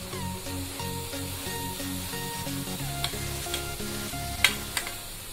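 Grated carrots tipped into melted ghee in a pan for carrot halwa set up a soft, steady frying hiss with a few sharp clinks near the end, quiet and close, over faint background music.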